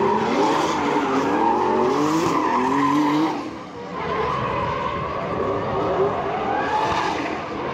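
Drift cars battle through the opening run of a Pro 1 round at a Bulgarian drift championship, lead car chased closely, with sustained loud tire squeal and skidding over engine roar, dipping briefly midway before rising again.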